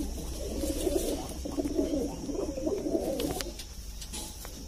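Indian high-flying pigeons coo in soft, repeated rolling calls, fairly close, with a few faint chirps and light background noise.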